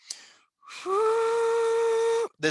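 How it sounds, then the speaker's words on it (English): A long, steady whistle-like tone in a forest clearing holds for over a second, loud and clear after a short hiss, then cuts off abruptly, with no talk. "like almost train whistle like sound echoing through the clearing in the forest"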